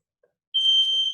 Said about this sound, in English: Waiting for the beep.